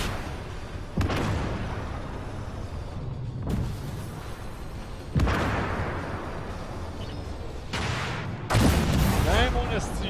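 Several heavy tank cannon blasts from a video game featuring the T-80 tank, about four booming shots spaced a few seconds apart, each followed by rumbling decay over steady background noise.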